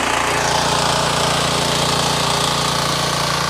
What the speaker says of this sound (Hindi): उतना भोला भाई का ये 4x4 का जो पावर टिलर ट्रैक्टर है वो ले रहा है इतनी गहराई।